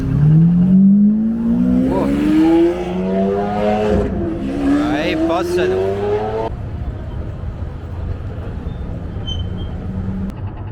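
A Porsche sports car on a Las Vegas street revs loudly and close by, its engine note climbing in pitch through several surges. The roar then drops away, leaving quieter street noise.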